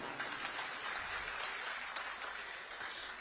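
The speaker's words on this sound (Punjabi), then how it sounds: "ਇੱਕ ਵਾਰੀ ਆਪਣੇ ਆਪ ਲਈ ਜ਼ੋਰਦਾਰ ਤਾੜੀਆਂ ਮਾਰ ਲਓ" Audience applause at a Punjabi public event where the Chief Minister announces new measures, a steady crowd of clapping hands that stays fairly even for a few seconds, with no talk over it.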